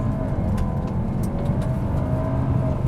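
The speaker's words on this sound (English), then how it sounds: "you turn traction off, you put this into drive, hold the brake down, floor it, launch control activated" A 2026 Audi Q3 launching hard under launch control, its engine droning loudly and steadily as it pulls away, heard from inside the cabin without talk.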